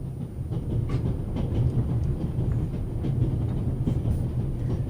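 A steady rumble of a train running in the video game The Raven Remastered, low and continuous with faint rhythmic clacking, no voices.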